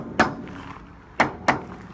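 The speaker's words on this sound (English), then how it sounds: "What you're going to do is use your hammer and get this thing into place." A hammer knocks a floor board into place on a mini dump trailer: three sharp, close wooden thwacks, one early, then a pair about a quarter second apart.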